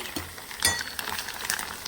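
Curry leaves, coriander and cumin tempering fry in hot oil for a bottle gourd pulusu, a short crackling sizzle with quick spattering pops and a light stir, close and moderately quiet.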